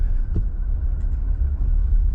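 A car driven at about 25 mph by a 13-year-old on his first drive, heard from inside as a steady low engine and road rumble with light wind noise.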